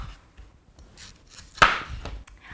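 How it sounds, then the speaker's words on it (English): A cleaver strikes a Thai coconut to open it, one sharp, loud chop standing out against quiet handling and light scraping nearby. "we're going to take this cleaver, use it to open up the Thai coconuts"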